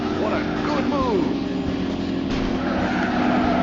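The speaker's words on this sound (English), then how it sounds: "the leader just crashed a lap car and sent that guy into another one" A car crash in the racing video game IndyCar Racing 2000: loud engine drone with tire squeals and skidding, brief impact bursts over steady race car noise, with a voice talking over it.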